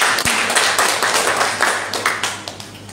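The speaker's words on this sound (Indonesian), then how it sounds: "Beri tepuk tangan buat Tuhan." A church congregation claps and applauds during a sermon, a loud, dense patter of many hands sustained for about three seconds in a reverberant hall.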